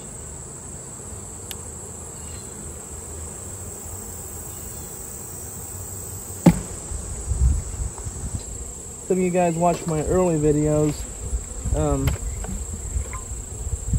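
A steady swarm of honey bees buzzing close by throughout, around bucket feeders, with a person talking over the hum partway through.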